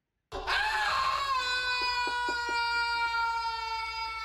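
The character Bobbin in the video game Loom lets out a loud, sustained scream after a brief silence, wavering at first and then holding a bright, ringing pitch with a few pulsing catches toward the end.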